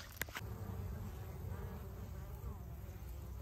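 A dense, continuous drone of many honey bees buzzing as they fly back to their hives in a Texas bee yard during a total solar eclipse, steady and close throughout, with one brief knock near the start.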